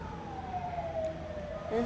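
A fire engine siren wails as a slowly falling tone, heard from a moderate distance over low traffic rumble.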